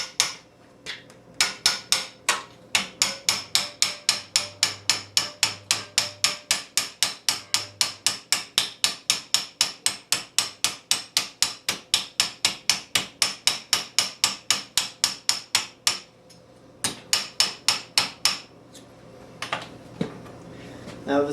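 Rapid, steady hammer blows emboss the front edge of a Milanese mitten gauntlet, a fifteenth-century steel armour piece, ringing out in long regular runs with brief pauses, close and loud, with a few scattered taps near the end.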